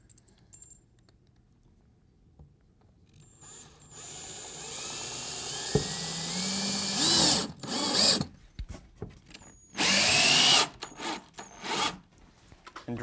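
Power drill driving 3-inch screws into a wooden farmhouse table, in several loud whirring bursts separated by pauses and quieter handling noises, close up with no talking.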